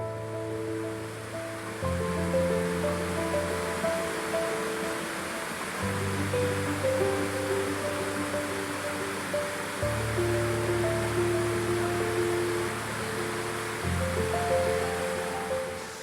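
Small waterfalls in a hillside conservancy near Kylemore cascade in multiple steps, giving a steady rushing wash of water under a continuous musical backing.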